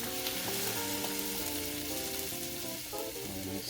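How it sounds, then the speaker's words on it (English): Veggie stock pours into a pan of sweet potato noodles, setting off a loud, steady sizzle and crackle with a bed of tonal background music running through it; nobody speaks. "now we are adding the veggie stock"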